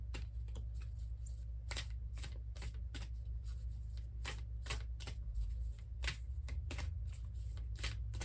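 Oracle cards from a Work Your Light deck are shuffled in a steady run of crisp riffling flicks, repeated bursts close to the mic over a low constant hum, with no talking.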